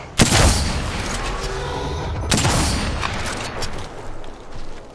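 Gunfire in a video game shooter: two sharp, loud shot bursts a couple of seconds apart, each trailing into a dense rumbling wash of noise, with faint voice chatter.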